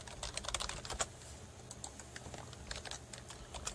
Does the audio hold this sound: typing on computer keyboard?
yes